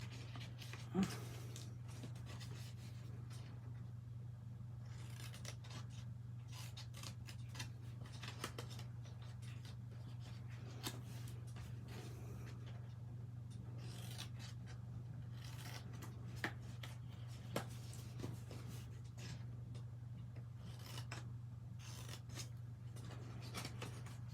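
Scissors snip through card stock during a stamping craft session, soft scattered cuts and paper rubbing over a steady low hum, with no talking.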